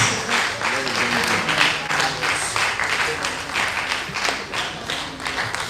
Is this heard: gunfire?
no